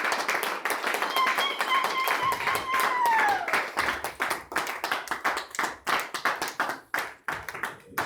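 A church congregation claps together after an amen, many hands in brisk overlapping bursts, with a sung or spoken voice carrying over the start before the applause takes over loud and close.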